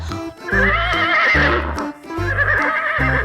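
A white toy horse gives repeated loud, close neighs and whinnies over rhythmic clip-clop hoofbeats, two bursts with a short dip between, with no talking.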